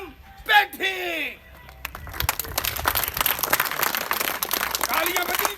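A stage audience greets an arriving guest, Ganjam Pethi, with a swell of applause, dense steady clapping that rises after a brief spoken introduction and carries on loudly to the end.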